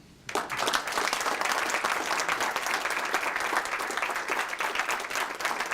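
An audience breaks into applause at the close of a speech at a Chase Bank event, a sudden start after a quiet moment, then sustained, lively clapping from a large crowd that stays loud to the end.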